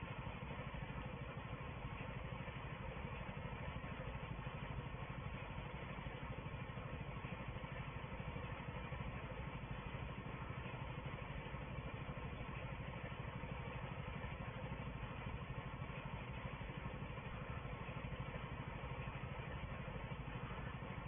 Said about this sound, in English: Having the cage wheels on the tractor just spreads the weight